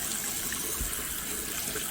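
Plain tap water runs steadily into a sink while glassware is cleaned, a continuous close splashing flow with no talk over it.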